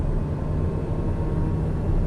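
Steady, loud aircraft engine drone from a flight video game as the plane throttles up to take off, a continuous low rumble with no talk over it.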